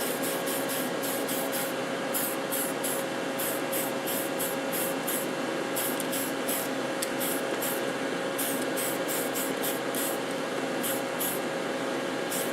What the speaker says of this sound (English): I always start painting with a light coat of primer on the inside of the body in the areas that are going to show